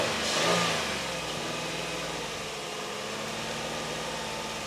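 Car engine running and revving steadily during an alternator test with a digital battery tester, a broad mid-pitched engine roar that swells briefly near the start then holds at a constant raised speed.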